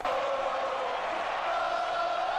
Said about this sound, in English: the crowd still out here chanting on 3rd down